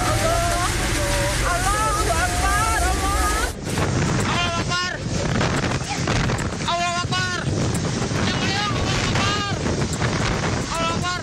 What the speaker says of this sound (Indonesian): Detik-detik angin puting beliung yang menerjang kawasan Jalan A.H. Nasution, Ujung Berung, Kota Bandung terekam kamera warga